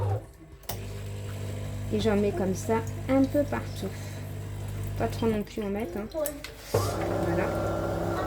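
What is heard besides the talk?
coffee maker running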